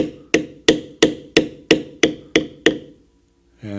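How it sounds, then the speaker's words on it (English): A mallet strikes a leather stamping tool eight times in a steady rhythm while beveling a Celtic design into leather, each hit a close, crisp knock with a short decay, followed by a pause and a brief scrape. "Now I can continue beveling on this one."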